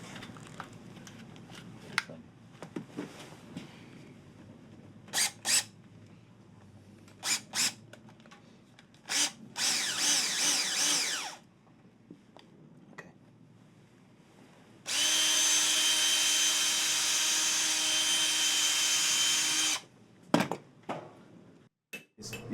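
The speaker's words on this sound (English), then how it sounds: "Give me a drill and a bit." A power drill fitted with a bit whirs in two bursts, a short one of about two seconds and then a longer sustained run, separated by quiet stretches with scattered clinks and taps of tools nearby.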